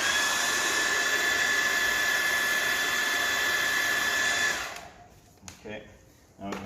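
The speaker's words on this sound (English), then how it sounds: "have my hairdryer here. I'm just going to heat it a small bit, get this plastic tool in behind it." Hair dryer blowing hot air to soften glue on an Audi A6 wing gives a steady, close whooshing drone with a high motor whine, then switches off partway, leaving faint handling noises.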